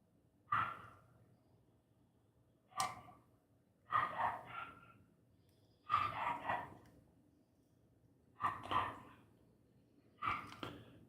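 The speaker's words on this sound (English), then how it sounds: "Got a noisy neighbor's dog out there tonight." A neighbor's dog barks outside at night, six separate bursts of barking spaced a couple of seconds apart, moderately distant and fairly faint against a quiet background.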